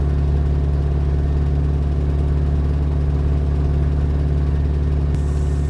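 A Rotax engine running on a Kitfox light aircraft, a steady loud droning hum with a strong low tone and even whir, holding constant throughout with no talking.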